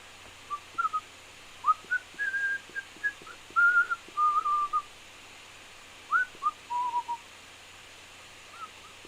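A person whistles a tune in clear melodic phrases with short pauses, moderately close against a quiet room hum, with no talking.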